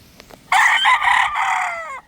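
A brood stag gamefowl crows once, close and loud, a single full cock-a-doodle-doo call lasting about a second and a half, with faint sounds before it.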